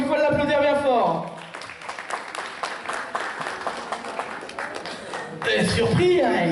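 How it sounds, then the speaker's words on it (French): A crowd applauds Thierry at a French TV show taping, steady clapping that rises between stretches of loud talk at the start and the end. "on peut encore une fois l'applaudir bien fort"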